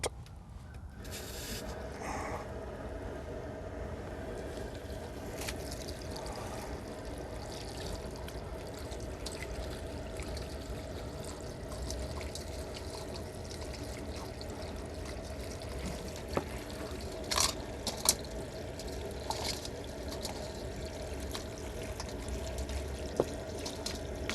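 Garden hose water rinsing quartz crystal points in a colander, a steady pouring and trickling wash over rocks with occasional clatter, continuous and close for the whole stretch.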